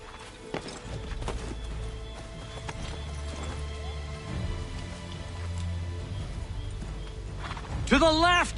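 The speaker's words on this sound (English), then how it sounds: "Get back on the horse, Connor" A horse gallops in the video game Assassin's Creed 3, steady hoofbeats under game music and ambience, ending in a loud whinny.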